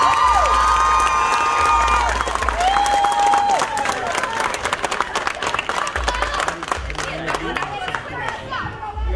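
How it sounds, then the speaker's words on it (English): A crowd applauds and cheers the Tobago champion team at a sporting celebration, with sustained clapping, shouts and whistles, children yelling, and a voice speaking over the noise. "And we must acknowledge that fact by the round of applause."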